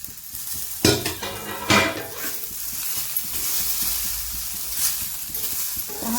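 Ridge gourd roasting in an iron pan over medium gas, stirred with a spatula: a close, steady sizzle with sharp scraping strokes and metallic clatter, no talking.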